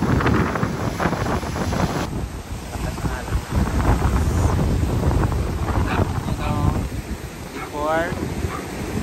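Strong wind buffets the microphone over rough sea waves on the coast at Tigbauan during Typhoon Goring, while a voice talks intermittently through the noise.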